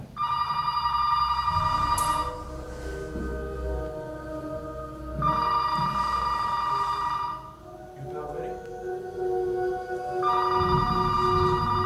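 A telephone bell rings in three long bursts separated by pauses, with a low murmur of voices under it, as in a horror movie scene.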